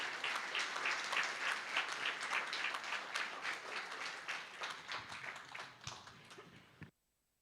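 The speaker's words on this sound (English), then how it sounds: "Please join me in welcoming him with a warm round of applause." Audience at a children's hospital anniversary celebration applauding, a dense, fairly soft wash of many hands clapping that slowly thins and then cuts off abruptly.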